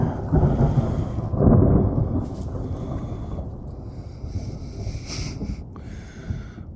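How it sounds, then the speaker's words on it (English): Low, rolling thunder rumbles through a storm over a creek, with wind buffeting the microphone and a steady broadband hiss of rain or weather, swelling early and then lingering as a continuous grumble. "We have what looks like thunder and lightning over us"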